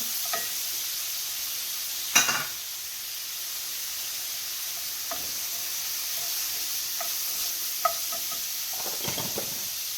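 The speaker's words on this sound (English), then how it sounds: "I'm going to put my sun-dried tomatoes in" Sun-dried tomatoes go into a pan of farro and are stirred through, giving a steady low sizzle with a few scraping stir strokes and clacks spread across the stretch, no voices.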